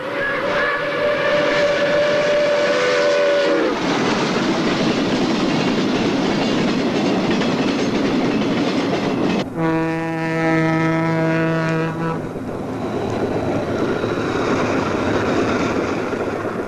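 New York Central steam passenger train running past loudly, with a sustained multi-tone steam whistle blowing near the start and again in the middle over heavy rolling rail noise and clatter.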